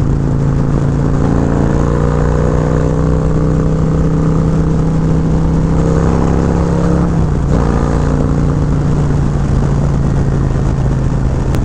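A Harley-Davidson Road Glide motorcycle engine drones loudly and steadily through its exhaust pipe, with a deep continuous rumble that dips and rises slightly around the middle, heard close without any talk.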